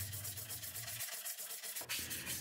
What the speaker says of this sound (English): I used a long sanding block to flatten the area that would receive the fretboard.